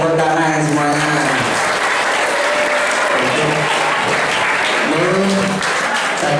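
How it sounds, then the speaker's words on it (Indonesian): A crowd at a Ramadan religious lecture breaks into sustained, loud applause, a dense steady wash of clapping that fills the whole stretch. Voices talk over it at the start and again near the end. "Ya, tepuk tangan semuanya."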